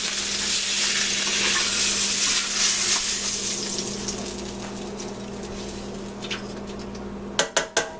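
A piece of roast beef sears loudly in a hot pan, a steady crackling sizzle that slowly fades, then three sharp clanks of a pan or utensil close by near the end.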